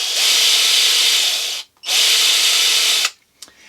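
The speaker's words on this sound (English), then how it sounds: "We've got this torquey little driver with 2 speeds, low and high." A WORKPRO mini buffer/sander whirs steadily at close range in two bursts of about 1.5 seconds each, with a short pause between them and the motor cutting off sharply at the end of each run.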